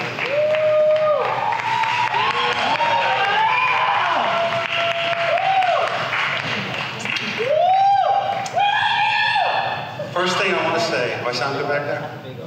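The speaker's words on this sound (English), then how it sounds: "So we have to give you a round of applause." A crowd applauds and cheers for a chapel worship leader, with sustained clapping and whoops under a singing, chant-like voice that rises and falls above the noise throughout.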